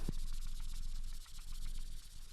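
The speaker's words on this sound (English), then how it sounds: "So I start coloring in circle motions, and this is how I typically do it with the chisel nib." Soft chisel-nib Ohuhu alcohol marker moving in circular motions over paper, giving a steady, close, quiet rubbing hiss with slight rhythmic swells and no voices.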